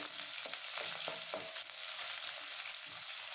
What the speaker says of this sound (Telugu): ఇప్పుడు ఉల్లిపాయలు పచ్చిమిరపకాయలు వేసేసుకుందాం. ఉల్లిపాయలు పచ్చిమిరపకాయలు ఇవి బాగా వేగాలి.